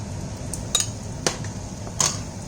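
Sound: sponge gourd added into pot of mushroom curry

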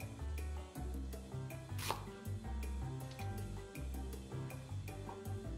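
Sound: knife chopping vegetable on cutting board

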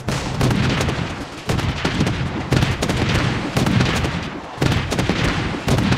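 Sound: vortex blast weapon firing in video game Project Bloodstrike

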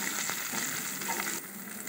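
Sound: onion, ginger and green chilli frying in pan

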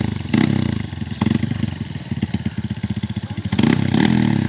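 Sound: trail motorcycle straining under rider's weight

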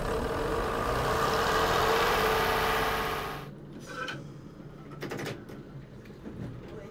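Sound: Chiltern bubble car engines running after a cold start

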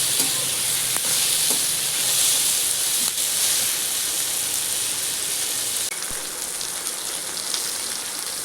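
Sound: masala roasting in a pan for egg curry

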